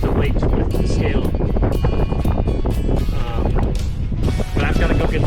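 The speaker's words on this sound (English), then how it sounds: "It's also really windy." Heavy wind buffets the microphone in a steady low roar, with faint rustling and brief flutters throughout.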